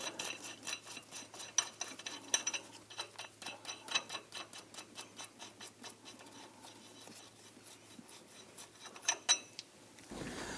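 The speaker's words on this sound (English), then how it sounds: "go ahead and remove the lug nuts" Lug nuts being removed from a 2006-2010 Hummer H3 front wheel, heard as irregular bursts of rapid ticking and rattling clicks, fairly faint, with a few sharper clanks and no talking.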